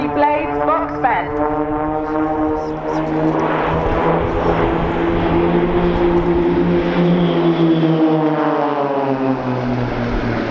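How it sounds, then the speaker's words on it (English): A propeller-driven aerobatic display by The Blades team at Dunsfold Wings & Wheels 2014: loud, sustained engine drone that shifts pitch as the formation sweeps round nearby, with a voice talking over it. "The team leader is going to bring the team round in front of us, showing off the underneath of the aircraft"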